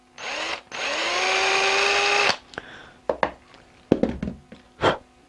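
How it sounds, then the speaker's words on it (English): Power drill boring a hole through soft material while building a double-nozzle spray gun: a short whir, then a steady two-second whine, followed by several brief clunks and handling knocks. "this material is soft enough that I don't have to worry about drilling very hard."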